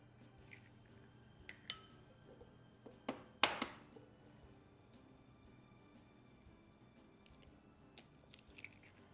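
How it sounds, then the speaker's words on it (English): Eggs cracked against a bowl while mixing pie filling in a home kitchen: a few sharp, quiet clicks, with one louder crack in the middle, then faint handling noises in an otherwise quiet room. "I'm going to crack the eggs and pray that I don't get any shell in here"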